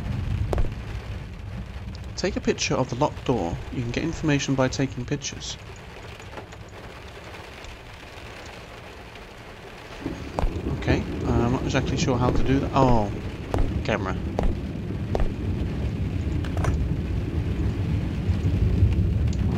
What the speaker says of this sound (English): So it's raining outside, you can hear that, and you can also see the storm